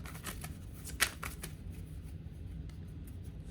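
Tarot cards being shuffled and drawn, a quick flurry of soft riffling flicks with one sharper snap, then quieter handling; close and faint.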